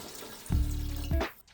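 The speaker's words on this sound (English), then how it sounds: "you're going to pour a glass of your favorite white wine and you're going to pour it into your broth" White wine is poured into chicken broth for chicken and dumplings, heard as two splashing, gurgling pours, each about half a second, close and fairly loud.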